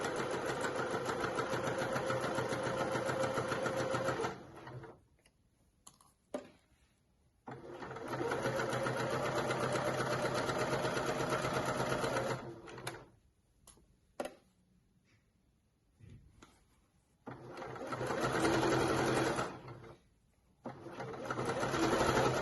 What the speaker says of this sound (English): I'm just going to stitch all the way down here a centimetre in.